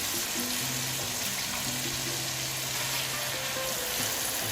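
Eggplant pieces and fish fry in a pan of well-cooked spice paste, giving a steady broadband sizzle with faint tonal hum underneath, continuous and close throughout with no talking.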